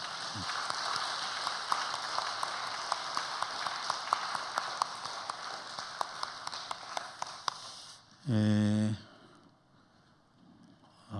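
A church congregation applauds in a worship service with a scattered patter of clapping that fades over about eight seconds, followed by a short low tone and then quiet.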